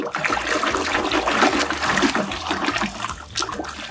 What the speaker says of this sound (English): Let's wash him, she's very muddy.